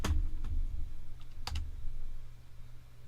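A few scattered keystrokes tap on a wireless keyboard, sparse and fairly quiet, over a low steady background hum.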